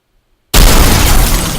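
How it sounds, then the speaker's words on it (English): A loud video game explosion erupts abruptly after silence as an enemy spider robot is destroyed, a dense, crackling blast that stays full and only slowly fades. "That is when you destroy the enemy robot, the enemy spider."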